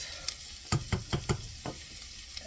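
Vegetables softening in a pot for broccoli cheese soup with bacon, a few quick stirring scrapes and clinks over a low steady sizzle, close and fairly quiet.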